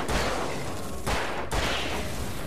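Loud bursts of gunfire from the video game Alan Wake fill the whole stretch, with a rapid heavy volley cut by brief pauses.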